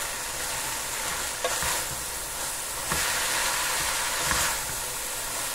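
Sliced carrot sizzles in a hot pan while yakisoba is being cooked, a steady close frying hiss with a few soft stirring clunks, no one speaking.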